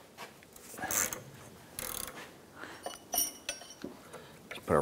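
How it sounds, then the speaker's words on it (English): A ratchet with a half-inch socket loosening the inner tie rod on a Chevrolet S10 pickup: a few short, close bursts of ratcheting clicks and metal scraping, with gaps between strokes. "Use a half inch socket on our ratchet here."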